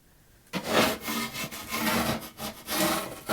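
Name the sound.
scraping and sanding dried coat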